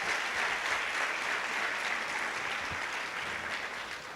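A church congregation applauds during a sermon, a steady, moderately distant wash of clapping that holds evenly and fades slightly toward the end.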